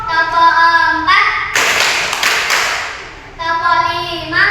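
Schoolchildren clap hands in a classroom counting game, one loud cluster of claps lasting about two seconds, framed by chanting young voices before and after.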